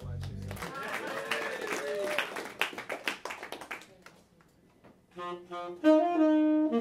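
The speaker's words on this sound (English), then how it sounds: "You can clap for" At a CD release party, scattered audience clapping sounds briefly alongside voices, followed by a pause and then tonal musical notes.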